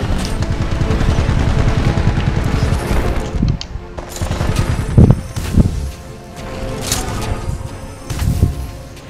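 Gunfire in a Titan combat video game: loud, sustained rapid automatic fire, then several heavy booming shots and bursts.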